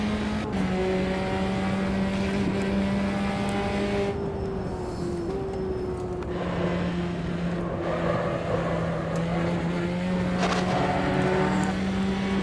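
A race car engine in the Automobilista 2 racing sim drones and revs steadily while driving, its pitch rising and falling through gear changes and corners, loud and continuous with no talk.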